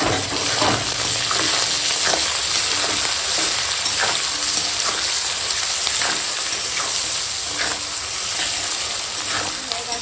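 Chili powder, turmeric and salt sautéed with fried vegetables in a pan, a steady close sizzle with scattered stirring scrapes throughout, no talking.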